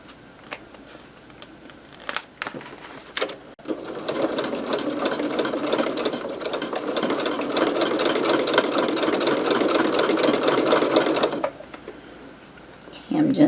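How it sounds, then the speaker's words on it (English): A sewing machine runs steadily for about eight seconds while top stitching fabric on a custom jar opener, sewn from the top side, with brief handling noises before and after. "I prefer to sew from this side when I top stitch"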